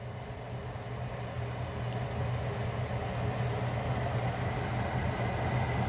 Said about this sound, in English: we got the air handler flipped on. As you can see, the fan spins slowly